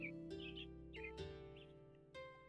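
Bird chirps and short tweeting calls from a forest ambience in a tabletop game session drift over a sustained humming musical drone, faint and intermittent, with no talk.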